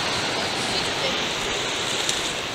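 Waves and wind on a rocky coastline at Sphinx Rock, a broad continuous wash of surf and blustery air, fairly loud and steady, with no distinct breaks or voices.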